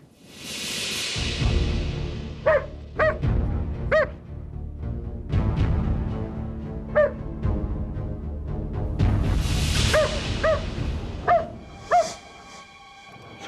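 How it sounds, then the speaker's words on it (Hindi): A dog barks repeatedly in short, sharp bursts, some close together and some spaced apart, over a low, rumbling background during a crime-drama scene. "ये यहाँ क्यों भौंक रहा है?"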